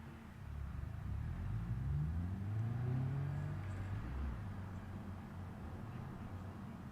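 A car engine driving in the video game BeamNG.drive on a West Coast USA free-roam map; steady low engine hum with rising revs in the middle, fairly quiet and continuous.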